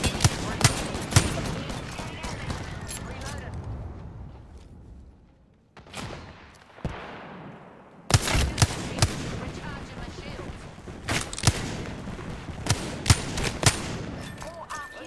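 Rapid gunfire bursts from the Apex Legends shooter crack repeatedly, some close and sharp and others thinner, with a brief lull midway before volleys resume, under occasional talk.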